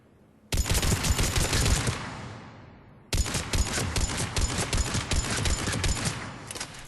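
Mattock rifle firing in Mass Effect 3: two loud, close bursts of rapid semi-automatic shots, the first run trailing off into a fading echo before the second, longer string of cracking reports begins.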